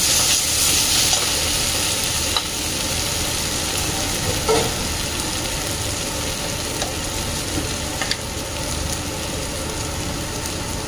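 Vegetables frying with spices in a pan, a steady close sizzle with occasional scraping stirs and soft clatter, no talking.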